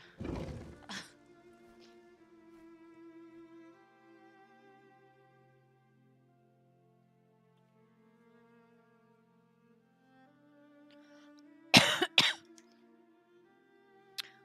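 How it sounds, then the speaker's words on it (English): A sharp cough bursts out near the start, then after a quiet stretch of lingering tonal ringing, another harsh cough and throat clearing erupts close by. "I gotta remember not to cough into the mic."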